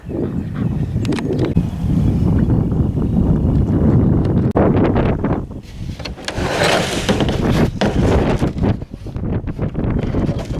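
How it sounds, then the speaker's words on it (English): Strong wind gusts buffet the microphone outdoors on a farm in early spring, a loud, continuous roar that swells and eases across the whole stretch with no one talking. "Ooh, the wind."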